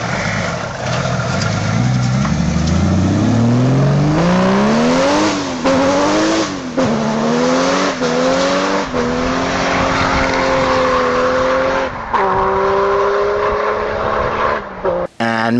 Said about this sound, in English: they sound awesome. They sound like a Toyota Supra engine.